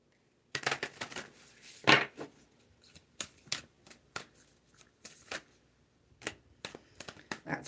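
A deck of oracle cards being shuffled by hand, with bursts of riffling and soft slaps spread over several seconds, some louder snaps between quieter gaps, close and alone without talk.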